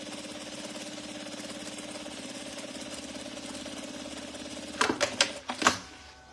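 A sewing machine stitches a seam on a crossbody bag, running as a steady fast mechanical chatter at moderate level, followed by a few sharp clicks and knocks near the end.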